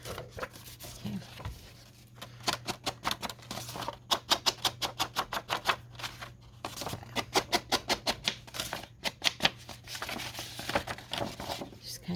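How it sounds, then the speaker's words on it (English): Paper edges on a scrapbook page being distressed with a tool, a rapid run of close, crisp scraping strokes in quick rhythmic bursts with brief pauses. "Just kind of going around and distressing my edges a bit."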